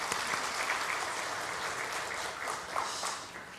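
An audience at a church gathering applauds pilgrimage travelers returning from an eleven-day trip, a dense, even crowd clapping heard from a moderate distance that fades slightly toward the end.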